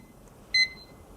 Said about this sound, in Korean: 타이머를 1분 동안 맞춰줄래요?